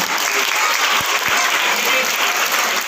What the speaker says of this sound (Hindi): जोरदार तालियां बच्चों